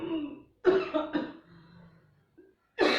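A person coughs in several harsh, close bursts during a throat-constricting ujjayi pranayama breathing exercise in a yoga session, with brief quiet gaps and soft breathing between them.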